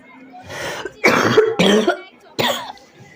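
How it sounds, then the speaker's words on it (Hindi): A woman coughs several times in a row, each burst harsh and close, with short pauses in between. "मैं वॉइस ओवर करते हुए मैं बहुत बार खांस रही हूँ"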